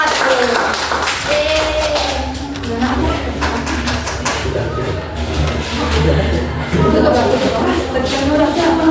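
Classroom clapping for a student presentation group in a religious education lesson, uneven claps from students mixed with chatter and voices throughout.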